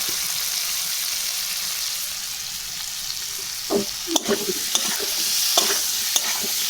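Tomatoes go into a pan of hot oil and are stirred as they fry, with a steady sizzle throughout and a few scraping stirs of the spoon near the end, and no one talking.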